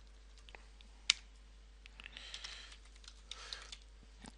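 Quiet, close keystrokes on a computer keyboard as a flight number is entered, scattered irregular taps with one sharper click early on, over faint background hiss.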